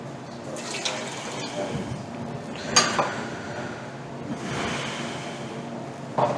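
Water poured into a cooking pot ahead of boiling rice, a steady splashing fill running under faint background noise with a few louder surges.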